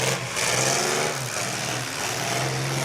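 Ford 4.3 V6 demolition derby car engine revving at a track, a loud close rough roar rising and settling in pitch throughout, with no voices over it.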